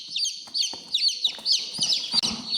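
Many newly hatched chicken chicks from a homemade incubator peep in high, rapid chirps close by, overlapping one another continuously, with soft rustling beneath.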